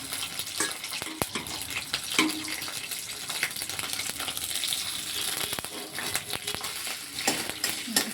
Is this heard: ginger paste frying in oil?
yes